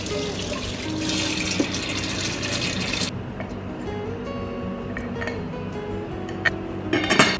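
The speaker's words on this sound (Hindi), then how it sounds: "ब्रश से स्क्रब करने के बाद साफ़ पानी से इसे क्लीन किया है" Tap water runs as an electric kettle is rinsed clean in a sink after scrubbing. The flow pours steadily, then stops, leaving a few light clinks and knocks of the kettle against the basin.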